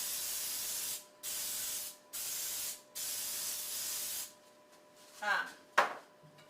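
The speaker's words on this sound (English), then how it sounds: "You just want to use non-stick spray." Four hissing bursts of non-stick cooking spray onto a pan, each about a second long with brief pauses, followed by a couple of soft clattering handling sounds.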